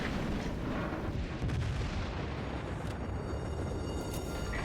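Heavy naval gunfire from a Fuso battleship in the World of Warships game rumbles through as a continuous loud, booming wall of low-end blasts with no pauses.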